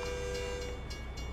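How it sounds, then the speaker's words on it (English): A train rolls past in the American Truck Simulator game near Port Angeles, a steady loud rumble with a faint horn-like tone running underneath, continuous throughout with no talking. "Wow, it took forever for this train to get here."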